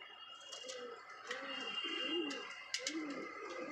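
Pigeons coo over and over in soft, low, rolling phrases, several birds close by, with a faint high background tone and a few sharp clicks.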